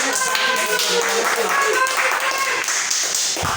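Audience members at an evening youth politics session clapping, a steady patter of many hands filling the room, with voices audible through the applause.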